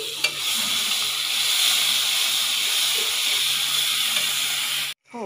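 Grated onion hits hot oil already fragrant with cloves, cinnamon, dried chilli and bay leaf, giving a loud, steady sizzle and hiss with faint stirring scrapes that runs unbroken for about five seconds before stopping abruptly.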